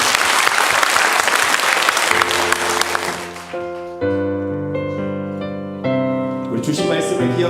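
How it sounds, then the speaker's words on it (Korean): Church congregation applause during a Sunday morning worship service, a loud wash of clapping for the first few seconds that gives way to sustained organ or keyboard chords. "영광의 박수로."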